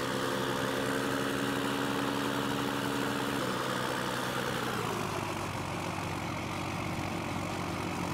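The old Dodge truck in Farming Simulator 15 drones steadily with a low, even engine hum that shifts slightly in pitch partway through, continuous and close, with no voices.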